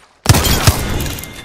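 Gunfire in the video game Apex Legends: after a short silence, a burst of loud close shots with two heavy impacts and a sustained crackle trailing off.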